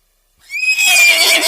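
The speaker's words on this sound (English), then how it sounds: "Horse." A horse gives one loud, close neigh, a sharp high whinny that starts after a brief silence and holds with a quavering tone to the end.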